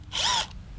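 A power drill fitted with a T20 Torx bit spins a screw on a 2008–2014 Ford Mustang during windshield wiper repair, giving a single short, close whir that rises and falls in under half a second.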